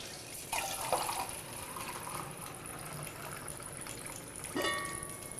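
Water pours steadily from a tin cup into a cooking pot to fill it for wild rice, a faint continuous splash that swells briefly at the start and end.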